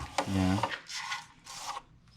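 Rough, raspy sanding strokes, two or three short bursts of scratchy friction on wood, close by, after a brief low hum.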